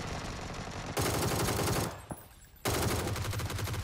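Sustained automatic gunfire aimed at falling meteors in a PUBG battle royale mode, two long loud unbroken bursts of rapid shots separated by a short pause, with no voices over them.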